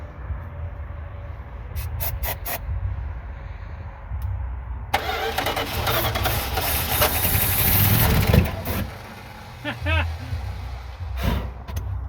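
A Dodge Scamp's engine turns over and catches midway, then runs roughly and loudly up close, revving before easing off, with someone talking before and after it fires.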